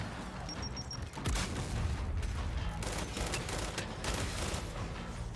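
Gears 5 Hivebusters gunfire gives a dense, continuous barrage of shots and impacts, loud and sustained after a brief quieter start.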